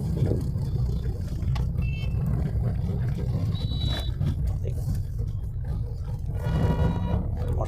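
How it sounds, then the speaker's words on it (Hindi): A car's engine drones steadily and close as it pulls away slowly in first gear, a continuous low rumble without pauses. "फर्स्ट गियर में ही गाड़ी को पिक करूँगा।"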